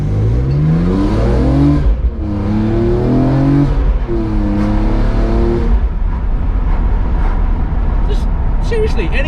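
A BMW E46 M3 CSL with an SMG gearbox accelerates hard, its engine revs climbing in repeated rising sweeps broken by quick gearshifts, heard loud and close from inside the car.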